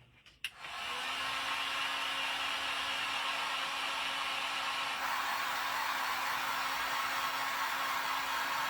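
Hair dryer blowing on a repurposed milk bottle craft, a steady airy whoosh with a faint hum that starts after a click and continues evenly close by, without speech.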